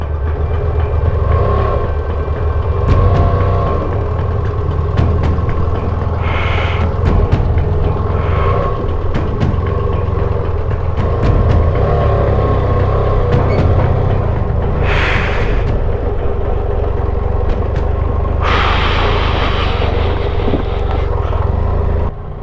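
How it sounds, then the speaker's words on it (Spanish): Motorcycle ridden slowly over a rough rural road in Venezuela, a loud continuous engine drone with bumps, rattles and brief bursts of wind or revving along the way. "Este no es un camino para esta moto"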